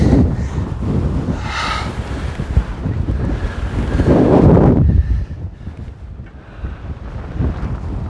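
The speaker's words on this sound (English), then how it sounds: "Yeah, this is what the wind has really been like." Strong coastal wind buffets the microphone on an exposed cliff-top stretch of the South West Coast Path, a loud continuous roar with gusts swelling and easing, and surf-like rushing beneath.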